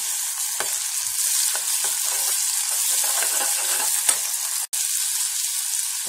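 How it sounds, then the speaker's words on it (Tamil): Onion and tomato sauté in a pan for peas masala, giving a steady continuous sizzle with occasional stirring scrapes and one sharp click near the end, with no voices. "வெங்காயம் நல்லா வதங்கிட்டு இப்போ தக்காளி போட்டு நல்லா வதக்கிட்டு"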